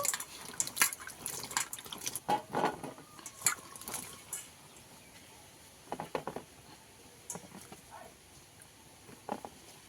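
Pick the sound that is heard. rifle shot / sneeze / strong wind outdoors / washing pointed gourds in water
washing pointed gourds in water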